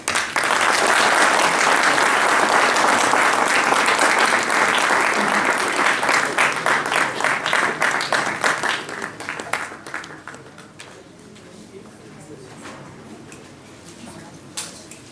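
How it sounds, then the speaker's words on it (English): A large audience at an evening lecture applauds loudly, a dense wash of clapping that holds steady for several seconds and then thins out into scattered claps before fading to near quiet. "give a huge round of applause as we welcome him on the stage"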